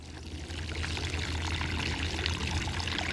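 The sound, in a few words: watering in a newly planted pepper plant in a garden bed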